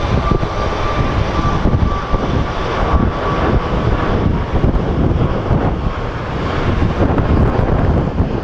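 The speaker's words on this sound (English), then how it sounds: "This wind is crazy." Strong wind gusts across the microphone at Sky Harbor International Airport: a loud, steady broadband rush mixed with the roar of a departing airliner's engines, with no voices.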